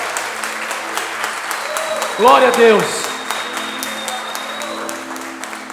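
A church congregation applauds loudly during a worship service, with continuous clapping throughout while a voice calls out praise in Portuguese over it.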